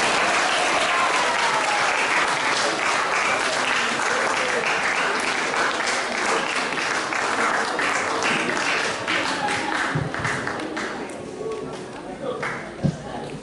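Seminar audience applauding at the close of the session, a dense, steady wash of many hands clapping close by that lasts throughout and thins slightly near the end, with faint voices underneath.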